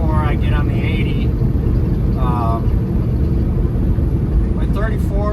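Steady, loud road rumble from a truck cruising on a highway near the Wyoming border, towing a trailer; the drone holds constant throughout with brief higher tones riding over it.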